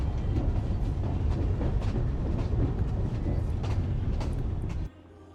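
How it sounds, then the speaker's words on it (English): A train in the game Genshin Impact rumbles past with a dense, steady clatter of wheels and rattling carriages, loud throughout before cutting off abruptly near the end. "There's a train."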